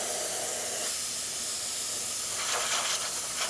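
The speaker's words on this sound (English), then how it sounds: "pressure coming out from the steamer one, working nice, working the way it's supposed to" Steam wand on an Isomac Milano espresso machine hissing steadily and loudly at close range, a continuous broadband rush of pressurised steam with slight surges near the end.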